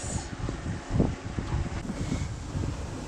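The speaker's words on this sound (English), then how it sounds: "So the wind's just picked up, it's about 20 knots." Wind of about 20 knots blowing over a sailing boat, heard from inside the cabin as a steady, gusting low rush with a few soft knocks and thumps from the hull.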